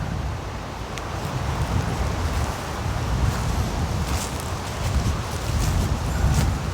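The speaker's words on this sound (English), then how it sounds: "that wind is really strong today" Strong wind blowing outdoors around a hammock campsite by a fire pit, a steady broadband roar buffeting close to the microphone with gusts swelling and easing throughout, no voices.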